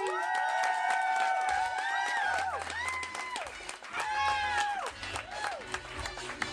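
Audience at a RAW Comedy stand-up show applauding and cheering as a comedian is welcomed to the stage, a steady roar of clapping and whoops with loud rising and falling shouts over it throughout.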